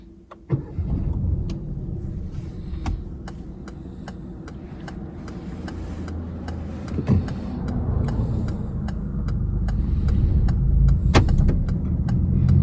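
A Peugeot 2008 on a night test drive hums from inside the cabin, with a low steady engine and road rumble that slowly builds, plus scattered clicks and small knocks and no talking.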